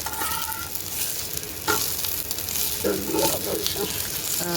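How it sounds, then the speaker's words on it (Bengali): Onions fried in oil to a reddish brown for bharta sizzle continuously up close, broken by a few sharp metallic scrapes and taps of a spatula stirring the pan. "তেল দিয়ে ভাজলাম আমরা পেঁয়াজগুলো রসুনের মতো লাল লাল করে হয়েছে"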